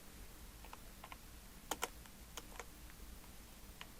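Computer keyboard keys tapped while entering a number into quilting design software: a few sparse, faint clicks spaced irregularly over a quiet background, with two slightly louder taps near the middle.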